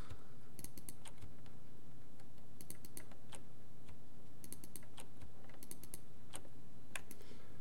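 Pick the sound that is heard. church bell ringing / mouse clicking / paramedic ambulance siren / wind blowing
mouse clicking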